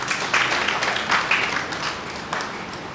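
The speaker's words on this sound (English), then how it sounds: "we as educators also deserve a big round of applause" Audience applause rising at an Independence Day program, a broad wash of many hands clapping steadily for about three seconds with no voices over it.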